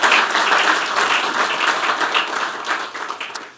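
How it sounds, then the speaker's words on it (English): A conference audience at a gold-investing talk breaks into full applause for the organizer and his staff, a loud, thick wash of clapping that holds steady before thinning slightly at the end. "I'd like you to join me in a round of applause for Kai and his staff"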